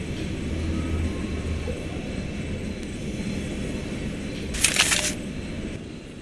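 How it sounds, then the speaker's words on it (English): Rumbling train arrival from the adventure game Dark City International Intrigue: a low, steady rolling drone with a brief bright hiss near the end. "The train. Just in time."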